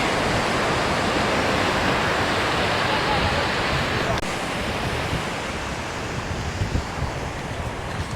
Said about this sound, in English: I think at the moment this is the best beach that I've seen so far.